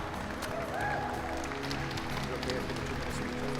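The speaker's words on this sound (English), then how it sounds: "A big round of applause for our first honoree this evening, Captain Jason Tarala" An audience at a Dania Beach State of the City event applauds an honoree, a dense, steady wash of clapping with some crowd murmur mixed in, filling the room throughout.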